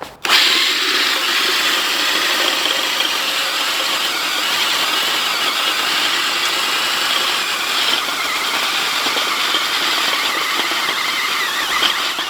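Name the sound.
mechanical broadfork or power harrow working a garden bed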